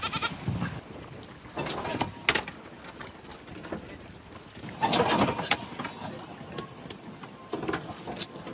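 A goat bleats intermittently as it is loaded onto a small boat in Cawayan, Masbate, with splashing water, footsteps and shifting noises around it and a louder burst of activity midway.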